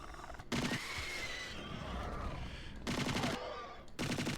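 Gunfire in a custom level of the game Trespasser: short bursts of rapid shots in three separate volleys, loud and close, with quieter ambient rumble between them.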